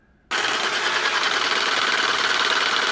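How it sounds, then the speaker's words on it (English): Ecovacs Deebot T10 Plus robot vacuum running its mopping system on the highest setting, a loud steady whirring drone that starts abruptly after a brief quiet moment and holds constant, close up with no talking. "the mopping system is a bit too loud, especially on the highest setting"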